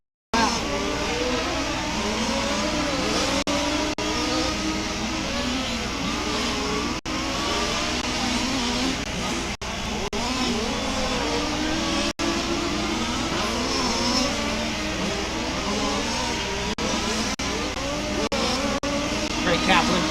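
Race cars of the RAMS FG Supply Series roar around the Warm Springs track in a tight battle, engines revving and rising and falling in overlapping sweeps as cars pass, loud and continuous throughout with commentary talking over it.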